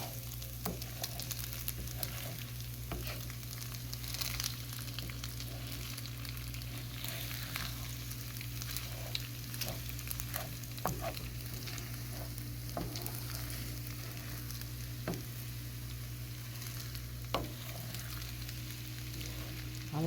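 Eggs sizzle and fry in a pan as they are scrambled, a steady close crackle over a constant low electrical hum, with occasional light scrapes and taps.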